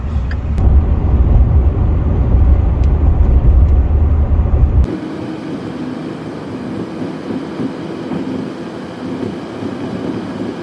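A loud, rumbling rush of a passing train in Canada fills the first half, then cuts off abruptly to a quieter steady hum of traffic and road noise.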